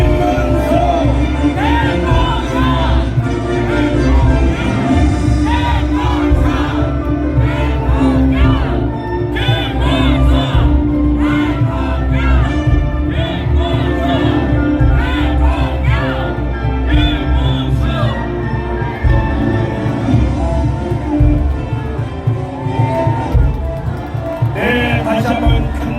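A large crowd at a Seoul City Hall Plaza presidential campaign rally for candidate Kim Moon-soo chants and cheers loudly and continuously, a dense roar of shouting voices that never lets up.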